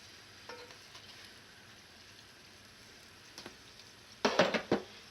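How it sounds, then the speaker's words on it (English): Churros frying in hot oil give a faint, steady sizzle, with scattered soft crackles and a louder burst of bubbling spatter near the end. "Once that oil gets hot, then it'll be done pretty quickly."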